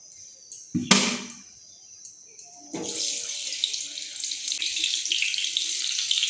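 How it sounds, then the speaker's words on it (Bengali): Potatoes fry in mustard oil in a kadai, giving a steady loud sizzle that starts abruptly after a brief clatter and continues to the end. "এবার আমি আলুগুলো ভেজে নেবো আমি কড়াইয়ে সর্ষের তেল দিয়ে দিচ্ছি"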